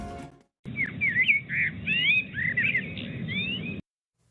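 Owls at a nest on a live stream give a string of thin, rising chirping calls over a steady low hum, lasting about three seconds before cutting off abruptly.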